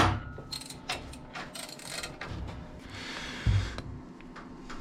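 A ratchet loosens a part on a Volvo XC70, with rapid mechanical clicking and grinding turns close up, punctuated by a few dull metallic knocks and a heavier clunk partway through.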